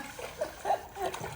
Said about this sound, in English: the help is cleaning the pool.